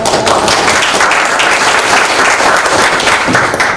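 Attendees at a Democratic Party floor strategy meeting clap together in a loud, even burst of applause that fills the room from start to finish.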